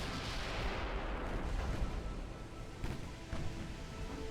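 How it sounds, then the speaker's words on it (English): A torpedo striking a ship in the naval battle game Ultimate Admiral Dreadnoughts, a heavy rumbling blast that rolls on for several seconds, with a few sharper booms of gunfire following. "Oh, I can't believe I got hit by that torpedo."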